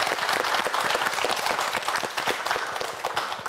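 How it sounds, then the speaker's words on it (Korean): A studio audience at a televised science quiz show applauds a student contestant, a dense, steady wash of many hands clapping close and loud throughout, easing slightly toward the end. "여러분 박수 한번 보내주세요."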